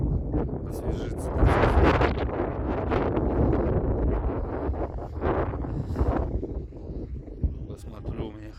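Strong wind blows outdoors in freezing cold during a blizzard on the road to Nadym, a loud, continuous gusty roar buffeting the microphone, with someone speaking over it.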